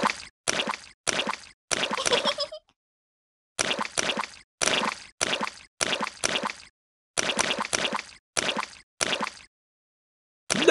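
Repeated wet squelching splashes in muddy puddles in a Peppa Pig video game, in quick bursts of two or three, separated by brief silences, close and fairly loud.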